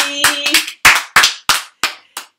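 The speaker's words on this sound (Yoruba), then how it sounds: "Ẹ pàtẹ́wọ́ fúnra yín." A crowd of people claps in about eight sharp, separate bursts, each a loud smack that decays quickly, with brief silent gaps between them, like a small audience applauding itself in time.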